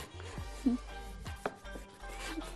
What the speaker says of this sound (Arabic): والنبي هقطع الفراخ